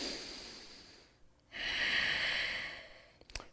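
Close, steady breathing during a yoga core workout: a long airy exhale, a short pause, then a strong drawn-out breath, followed by a few faint clicks at the end.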